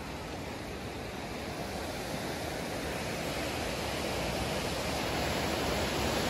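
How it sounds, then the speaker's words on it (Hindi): Waves and rushing water of the flooded Yamuna river in full spate, a broad continuous roar that stays steady and close and slowly builds slightly louder, with no voices. "ये कुछ इसकी लहरें हैं"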